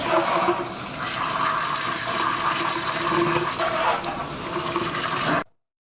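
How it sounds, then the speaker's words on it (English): Warm water runs steadily from a tap to rinse conditioner out of a doll's curly hair, a loud continuous rushing splash that stops abruptly near the end. "then I rinsed out all the conditioner. I started with warm water"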